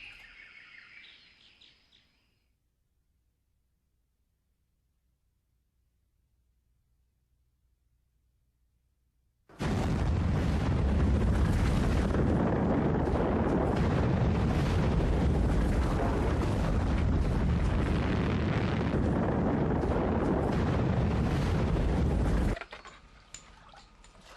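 Documentary sound effect of the massive volcanic eruption of Toba in Sumatra: a loud, dense roar that bursts in abruptly after near-silence, rumbles continuously for about thirteen seconds, then cuts off sharply.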